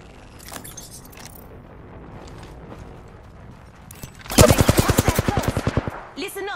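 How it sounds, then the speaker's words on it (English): Automatic gunfire in the video game Apex Legends: after a stretch of quieter background action, a loud, rapid burst of roughly a dozen close shots rattles out, followed by a short second volley. "I'm getting shot at"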